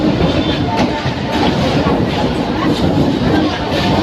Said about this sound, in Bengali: এখন যাচ্ছি ট্রেনে করে